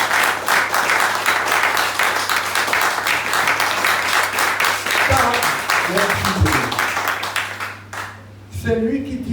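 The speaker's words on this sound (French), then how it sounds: "Acclamez le Seigneur." Congregation at a church service applauding together in sustained, dense clapping that fills the space, with a voice rising over it near the end as the clapping thins.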